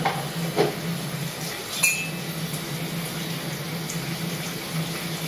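Eve washing dishes in the background: faint clinks of glass and cutlery with running water, a few sharper chinks standing out over a low steady room hum, distant and soft.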